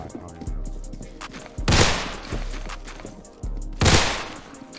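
Beretta pistol fire in Roblox Criminality: two loud, sharp bursts of shots about two seconds apart, each with a heavy blast and short tail, over low game rumble and faint mechanical ticking.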